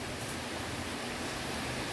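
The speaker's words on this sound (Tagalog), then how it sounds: "Yan, grabe po, napakalakas po talaga ng ulan." Heavy rain pours down during a night thunderstorm, a dense, unbroken roar of water with no distinct drops or pauses, filling the whole moment evenly.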